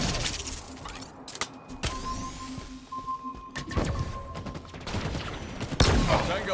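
Gunfire in the sci-fi shooter Halo Infinite, scattered sharp bursts and single cracks over a busy battle ambience, with radio-style voice callouts heard at times.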